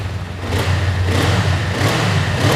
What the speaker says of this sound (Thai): เดี๋ยวฟังเสียงท่อคันนี้กันนะครับ